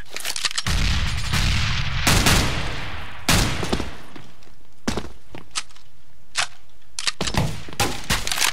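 A grenade detonates in Counter-Strike: Global Offensive, heavy booming blasts amid rapid bursts of gunfire and sharp thuds, loud and close, with short quiet gaps between shots and no talking.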